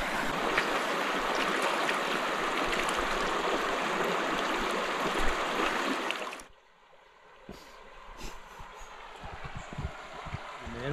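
A river rushes over its bed in a remote Scottish glen, a loud broadband wash that cuts off abruptly to quieter outdoor ambience with light knocks and rustles.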